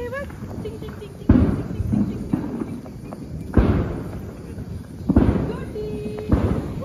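Diwali firecrackers burst outdoors in several sharp bangs spaced a second or so apart, each with a crackling tail, while people talk nearby.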